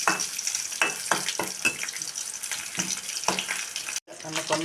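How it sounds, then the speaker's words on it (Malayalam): Mustard seeds spluttering in hot oil for a Kerala vegetable curry tempering, a dense crackling sizzle with sharp popping bursts throughout, briefly dropping out near the end. "കടുക് പൊട്ടിച്ചെടുക്കും."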